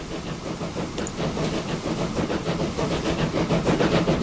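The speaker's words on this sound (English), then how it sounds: "Go on, train, I need to go underneath." A train moves along in Transport Fever 2 with a steady, close rumble and a faint repeating rattle that hold for about four seconds, with no talking.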